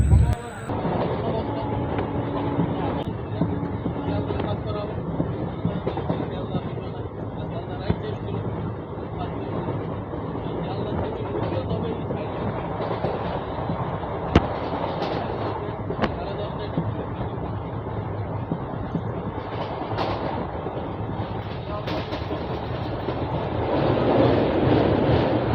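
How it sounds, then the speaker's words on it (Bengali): A passenger train rolls along with a steady, loud rumble heard from a window seat inside the carriage, with a few sharp knocks and rattles over the track and brief voices nearby. "ট্রেন ছেড়ে দিয়েছে।"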